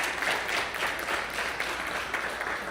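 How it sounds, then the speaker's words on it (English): Steady applause from an audience at a community gathering in Los Angeles, a fairly loud, continuous patter of many hands with no one speaking. "Please clap and applause."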